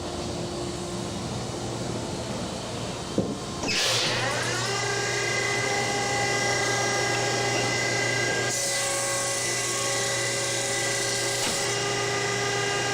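Thickness planer running in a woodworking shop, a steady loud mechanical whine with a sharp rise as a board enters partway through, continuing close and alone without talk.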